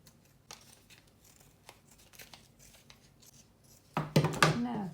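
Scissors cutting fabric around a Christmas tree shape for a sewn card, with faint scattered snips and rustles, then a louder burst of close cutting and fabric rustle at the end.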